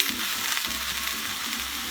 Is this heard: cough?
no